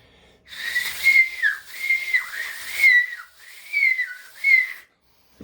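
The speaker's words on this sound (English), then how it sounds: "moving it back and forth till you can hear it start to whistle, like so" A loud, high whistle made without fingers, sounding in about five sustained bursts with slight pitch slides, close and alone, then silence.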